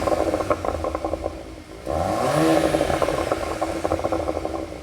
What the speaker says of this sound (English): this also has the optional Akrapovič exhaust,